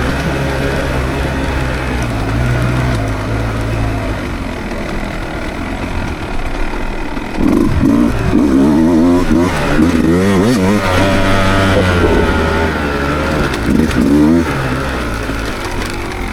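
A Beta dirt bike engine on a demo ride roars loud and steady in second gear, its pitch rising and falling with revving throughout, with a rider talking over it.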